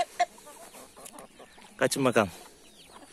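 Wyandotte hens and a young rooster cluck and squawk nearby in a coop, with soft clucks early and a louder run of calls in the middle; a person speaks briefly.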